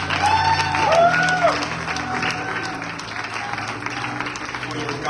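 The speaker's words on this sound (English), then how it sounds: "Give them a round of applause." A congregation applauds at a church youth gathering with a steady, moderately loud patter of clapping. Voices and a few whoops and whistles carry over it, then the clapping gradually fades.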